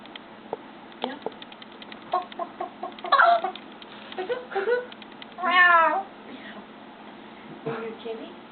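A yellow-naped Amazon parrot mimics a cat, producing a drawn-out meow-like call amid scattered clucks, clicks and chatter, close up in a quiet room.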